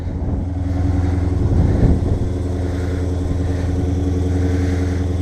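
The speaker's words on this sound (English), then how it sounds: "One of the best sounding exhausts I've ever heard." A 2015 Dodge Charger Scat Pack with its factory exhaust gives off a loud, steady, deep engine rumble close by, swelling briefly as it revs before settling back to a constant idle.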